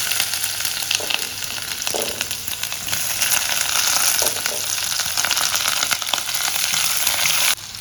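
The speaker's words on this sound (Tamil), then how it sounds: "பட்டை, கிராம்பு எல்லாத்தையும் போட்டு தாளிச்சுக்கலாம். இது நல்லா கொஞ்சம் பொரியட்டும். வெங்காயம் போட்டுக்கலாம்." Cinnamon, cloves and onion frying in oil in a cast iron pan for vegetable biryani, with a loud, dense, continuous sizzle and crackle close up, plus a few faint stirring scrapes and no voices.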